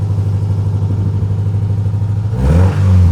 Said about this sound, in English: I feel like it's only fair to give you guys a couple revs in the Demon 170